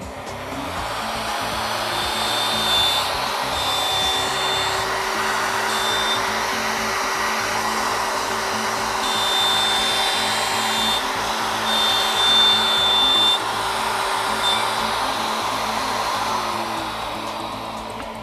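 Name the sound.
router cutting a circle in ABS plastic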